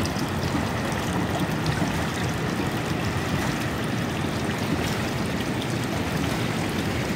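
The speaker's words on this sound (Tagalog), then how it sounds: "Ito na ang ulan." Rain arriving in a steady, dense hiss of falling water, continuous and fairly loud with no breaks and no voices.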